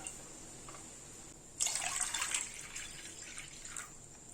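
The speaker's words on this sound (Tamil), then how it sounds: "நான் அதுல ஒரு 2 கிளாஸ் தண்ணி ஊத்திக்கலாம்" A brief, close pour of about two glasses of water splashing into a pan on a gas stove, starting abruptly and trailing off into faint drips.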